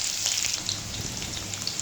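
Panch phoron and onions fry in hot oil in a wok, giving a steady, close hiss with fine crackles and no voices.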